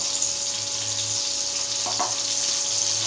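Fish fries in a pan with a steady, loud, continuous sizzle that fills the whole stretch, with a brief clatter near the middle.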